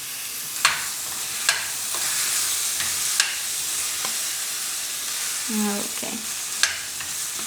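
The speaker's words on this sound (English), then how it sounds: "let me just give it a quick stir before." Tomatoes sizzling in a hot pan on high heat, a constant close frying hiss broken by several sharp spoon knocks as they are stirred; a voice speaks briefly.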